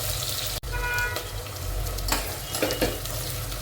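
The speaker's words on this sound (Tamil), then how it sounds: "நல்லா வெங்காயம் சேர்த்து பொன்னிறமாக வர்ற வரையும் வதக்குங்க" Onions sautéing in a pan for mutton biryani, giving a steady sizzle with stirring scrapes and a few clinks close by, alone without talk.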